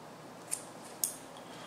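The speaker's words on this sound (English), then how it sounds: "Cut a section of that." Scissors snip hot pink kip tail hair for a fly's wing, two short, crisp, faint metallic cuts about half a second apart in a quiet room.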